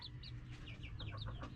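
Young chickens in a backyard coop giving a run of soft, high chirping clucks and peeps, fairly quiet and repeated over a low background hum.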